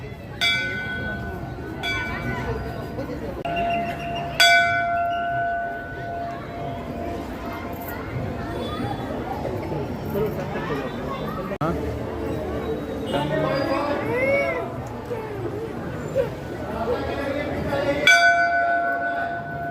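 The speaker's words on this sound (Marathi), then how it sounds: "इकडे घंटी वाजव" A temple bell rings out a few separate times with long gaps between strikes, while people chatter nearby throughout, at Shree Siddhivinayak temple in Virar.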